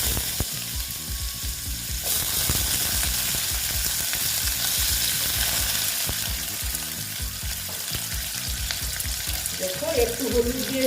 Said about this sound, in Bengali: দিয়ে ভালো মতন আলুগুলোকে আমি ভেজে নেব